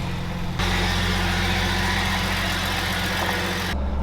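Steady engine drone of an old Jeep on a test drive, a constant rumbling hum heard from inside, with a slight shift in tone near the end.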